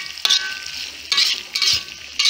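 Sambal prawns with petai and potatoes sizzle steadily in a pan, broken by several scraping stirs of a spatula against the metal, close and loud with no talking.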